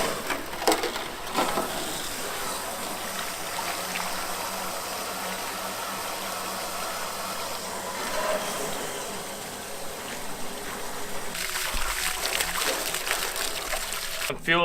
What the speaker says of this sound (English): Some fuel in now and swish it all around, make sure there's no just water by itself which will lead to rust.